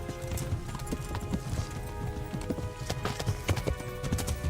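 A horse in the medieval video game Kingdom Come: Deliverance clip-clops along in a steady, close, fast rhythm of hoofbeats, with musical tones underneath.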